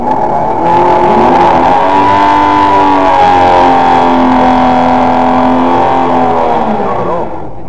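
A nitro drag race car launches off the water box at a drag strip, a deafening close roar with stacked rising engine tones that climbs and holds for several seconds before fading away, with no voices over it.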